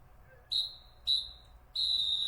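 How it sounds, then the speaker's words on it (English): Three sharp, shrill football whistle blasts, the first two short and the last one held longer, sounding loud and clear over a faint low rumble. "That's football whistle time"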